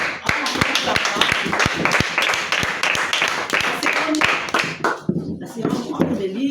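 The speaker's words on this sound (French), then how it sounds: "Nous acclamons pour la parole de Dieu" A children's Sunday school congregation in a church claps in a lively, loud rhythm, many hands beating together in sharp repeated volleys as voices cheer and call out over the clapping.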